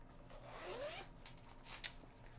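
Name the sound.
zipper on a cross-stitch project bag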